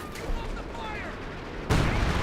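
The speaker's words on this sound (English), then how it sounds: "We also got what appears to be major artillery being brought on in" Artillery fire in the Company of Heroes 2 strategy game, heard as a sudden loud, booming burst of explosive gunfire that cuts in near the end, after a stretch of quieter battlefield noise with scattered sounds.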